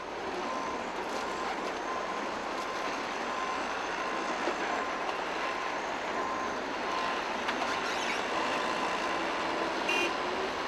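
A log truck reverses down onto a concrete apron at a dry land log sort in Farming Simulator 22, its backup beeper tolling steadily over a broad engine rumble and wash of noise.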